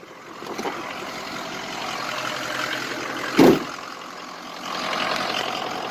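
A truck's diesel engine with a faulty high-pressure oil system idles in a steady low rumble, with a brief louder clunk partway through and the running sound swelling slightly near the end.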